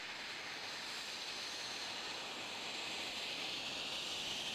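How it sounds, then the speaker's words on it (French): A Mirage IV P jet engine runs steadily just after start-up, a continuous broadband roar with a strong high-pitched whine, loud and unbroken throughout. "Moteur démarré."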